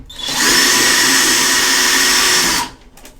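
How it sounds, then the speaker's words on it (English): Cordless screwdriver backing out a ground screw from a bathroom vanity light fitting, a single close, loud whine that spins up, holds steady for about two seconds and then cuts off. "So I'm going to use my cordless screwdriver"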